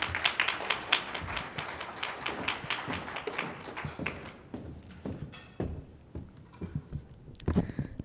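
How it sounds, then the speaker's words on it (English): Conference audience applause with scattered, uneven clapping that thins out toward the end, a few louder claps rising again near the close. "Applause, please."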